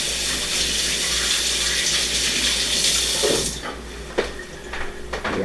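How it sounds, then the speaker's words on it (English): Hands are rinsed under a running kitchen tap while cheese-stuffed chicken breasts are prepared; a steady, close water stream hisses for about three and a half seconds, then stops, leaving a few faint clinks and handling sounds. "Wash off my hands there."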